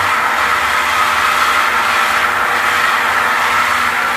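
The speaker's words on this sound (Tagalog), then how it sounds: "So ganyan ang tunog ng motor" An electric water motor pump runs on low incoming water pressure, giving off a steady, loud, broadband whirring hiss that holds unchanged throughout with no pauses.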